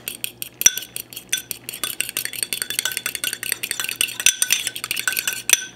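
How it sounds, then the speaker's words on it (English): A fork rapidly whisks an egg with garlic in a bowl, producing quick, bright clinks and taps against the dish in an uneven, steady rhythm, close and fairly loud with no talking. "crack my egg Add a little bit of garlic and then beat it really well"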